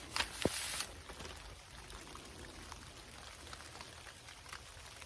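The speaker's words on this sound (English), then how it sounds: "All right, it's starting to rain." Rain begins falling outdoors at an evening vigil in a brief, louder patter at first, then settles into a faint, steady wash of drops, with no voices.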